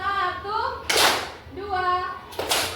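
A class claps together in a rhythm pattern, with two sharp bursts of many hands separated by a voice calling out a count in a classroom.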